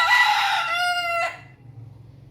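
A native (desi) rooster crows once, loud and close, its drawn-out call fading into quiet farmyard background.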